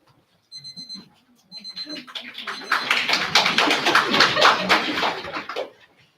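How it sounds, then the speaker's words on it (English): Audience at a League of Women Voters candidate forum breaks into applause, starting with a few scattered claps and building into a dense, loud round of clapping that fades out after several seconds; a faint electronic tone beeps at the start. "Folks, please hold your applause to the end of the meeting"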